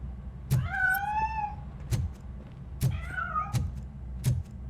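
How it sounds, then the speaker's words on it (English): Two drawn-out cat meows in the video game RoboCop: Rogue City, close and clear, over a low background hum with several soft thumps spaced through the clip. "That cat must be hiding inside."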